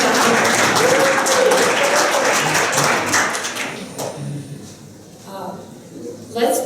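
An audience applauds at a leadership development organization's recognition ceremony, with dense clapping for about four seconds that then thins out and fades as a voice speaks.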